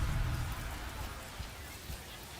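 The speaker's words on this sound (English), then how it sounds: "This rain is not letting up." Rain falls steadily at a baseball game in MLB The Show 25, a soft constant wash of drops with faint low rumbles, quiet and without voices.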